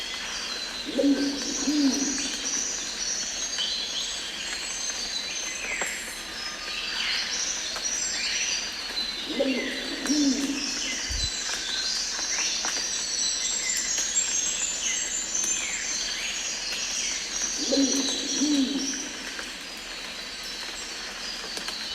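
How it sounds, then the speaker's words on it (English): A wompoo pigeon gives three deep, booming coos spaced several seconds apart, each a short low phrase, set against a constant bed of insect and other bird sounds in the forest. "if you're not sure what a Wampu pigeon sounds like, here's a little snippet that I prepared earlier"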